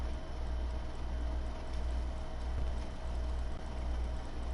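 Horse hooves clip-clop steadily in Red Dead Online as the horse moves over rocky ground, heard under a constant low rumble of wind and game ambience.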